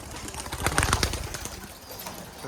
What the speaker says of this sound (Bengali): শীতের সময় তো সে কারণে কবুতরগুলো দেখেন যে বসে আছে মানে গা ফুলাইয়া প্রতিটা কবুতর সেম ওই একই রকম